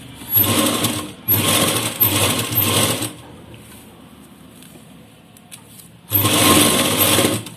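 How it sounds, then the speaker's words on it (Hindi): A sewing machine stitches thin piping onto the round neckline of a blouse, running in loud, rapid bursts close by, pausing for a few seconds of quiet handling, then starting up again. "बिल्कुल जितनी पतली हमने पाइपिंग निकालनी है उतनी ही हम सिलाई लगाएंगे।"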